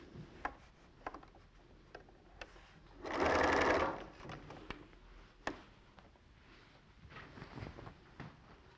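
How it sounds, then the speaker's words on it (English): A sewing machine sews a long seam on a log cabin quilt, running in one close, steady whir for about a second amid quiet handling clicks and fabric rustle. "And then it's one long seam to sew up."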